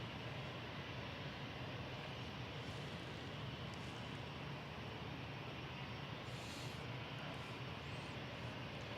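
An Iberia airliner taxiing out at Manchester Airport, a steady distant engine roar holding evenly throughout without talk.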